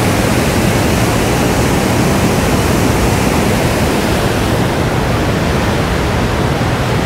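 Gooseberry Falls in spring melt pours with a steady, loud, broadband roar of heavy rushing water, unbroken and alone for the whole stretch.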